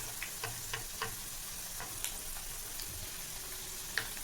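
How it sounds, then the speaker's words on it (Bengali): Hot oil spooned over layered khaja frying in a pan gives a steady, even sizzle, with faint ticks and occasional soft spoon clinks over the constant hiss. "চামচের সাহায্যে দেখো তেলগুলো আমি একটু ওপর দিয়ে ছিটিয়ে দিচ্ছি, যাতে ভালোভাবে লেয়ারগুলো বোঝা যায়।"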